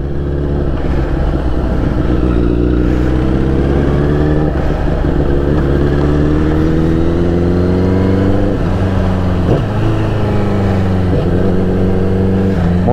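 A BMW S1000RR sport motorcycle rides on snowy roads, its engine droning loud and steady close up, with the pitch rising and falling through gear changes and throttle shifts and a few sharp dips.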